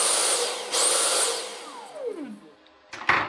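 A Dyson V6 cordless vacuum cleaner whines at high pitch as it starts, then runs steadily before spinning down with a falling tone. It is then briefly switched on again, loud and close, with no talking.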